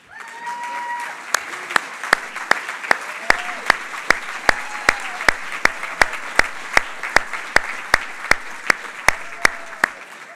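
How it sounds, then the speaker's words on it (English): Applause for past presidents standing at an annual dinner, broad steady clapping from the room with a sharp, regular, loud clap near the front repeating about twice a second over the crowd. "we'd like to give you a round of applause"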